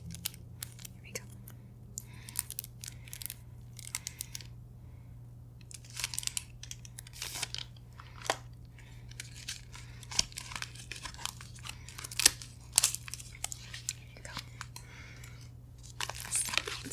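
A pack of spearmint gum is opened up close with soft, irregular crinkles and crackling of wrapper paper, scattered quiet rustles over a faint hum, with whispered talk in places.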